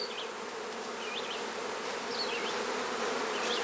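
Honeybees from a large hive being split drone in a thick, steady buzz that fills the space close by, with faint bird chirps above it and no talking.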